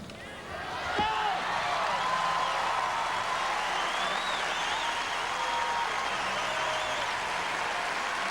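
Sustained, loud applause and cheering from a large gymnastics arena crowd at a men's team final, swelling after the first second and holding steady throughout with no talk over it.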